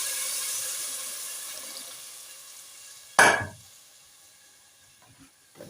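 Measured water is poured into a hot sufuria pot of sticking rice for a beef stew, causing a sudden loud splashing sizzle that quickly fades. It follows a gentle background hiss, and faint clinks come later.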